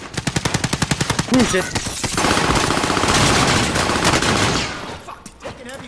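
Heavy gunfire in a video game: a rapid regular burst of automatic shots, then a dense roaring barrage of overlapping fire that fades toward the end, with a man swearing during the shooting.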